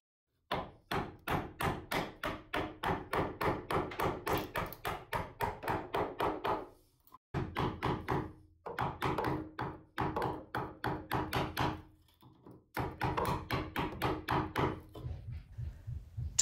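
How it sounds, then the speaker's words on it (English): A chisel is struck repeatedly with a mallet while cutting out a dovetail housing in a wooden deck beam for a carvel-planked boat. The taps come in quick, regular runs of sharp, close blows, with short pauses between the runs. "drilled a few holes to the correct depth, and chiselled it out."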